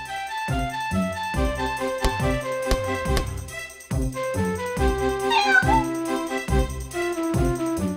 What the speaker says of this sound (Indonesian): Doni dan Carlo berhasil menolong anak kucing yang kakinya terjerat.